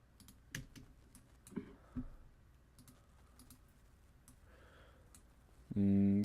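Sparse, close clicks of a computer mouse and a keyboard Enter key, several separate taps spread out over a quiet background, ending in a brief loud tonal burst.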